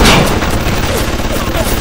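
Gunfire in the video game Bioshock: a loud burst of shots opens, followed by a dense, rumbling spread of further blasts and echoing noise throughout.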